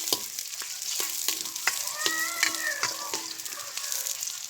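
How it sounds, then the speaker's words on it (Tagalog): Garlic and onion sauté in a pan for a dish of sweet potato tops, a close steady sizzle broken by regular clinks and scrapes of a spatula stirring against the metal. "sinigisa na natin yung ating bawang sibuyas para sa ating ginisang talbos ng kamote"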